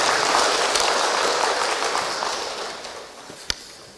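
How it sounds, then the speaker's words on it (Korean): Members at a redevelopment association's extraordinary general meeting give a loud, dense round of applause that gradually fades over four seconds and ends in one sharp final clap. "힘찬 격려의 박수를 다시 한번 부탁드리겠습니다."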